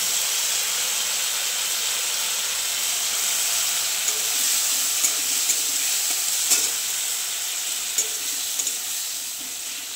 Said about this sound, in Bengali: অল্প একটু জল দিয়ে মশলাটা কষে নিচ্ছি